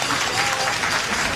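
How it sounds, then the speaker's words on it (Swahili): Audience applause at an Islamic institute fundraising event, a steady dense wash of clapping lasting the whole short moment, fairly loud and close, with no talk over it. "Makofi."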